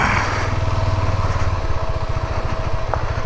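KTM ADV 390 motorcycle engine running at low speed while pulling into parking, a close, loud, steady single-cylinder thrum with rhythmic pulsing.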